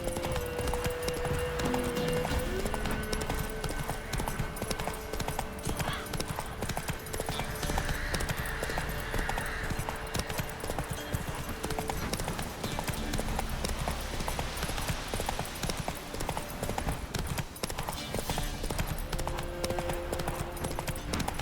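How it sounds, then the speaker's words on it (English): In the video game The Witcher 3: Wild Hunt, a horse gallops with rapid, continuous clip-clop hoofbeats and occasional whinnies, layered over game music and ambience for the whole stretch. "Run, Roach"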